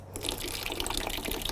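Flush water runs and splashes out of a drained 2004–2007 Honda CBR1000RR motorcycle radiator, a steady close trickling and gurgling stream that starts abruptly and continues throughout.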